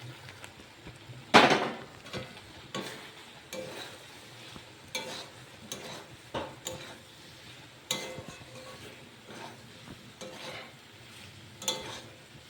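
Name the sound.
sautéing potato, cauliflower and capsicum in spice paste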